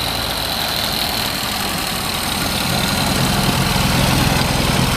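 A 1932 Ford Model B five-window coupe with a manual transmission idles close by, a steady loud mechanical chug and knock that swells slightly partway through.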